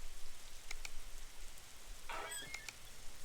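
Rain falling in the video game Survivalist: Invisible Strain, a faint continuous patter with a few brief clicks and a short rustling burst near the end.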